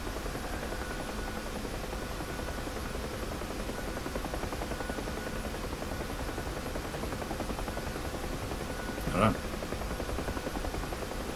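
Huey helicopter engine and rotor in the DCS flight simulator game, a continuous loud droning whine with steady rotor chop throughout, a brief sharp sound near the end.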